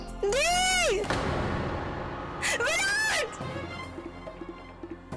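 Two loud, high-pitched screams from a woman, the first long and piercing, the second shorter after a pause, with a dramatic background hum.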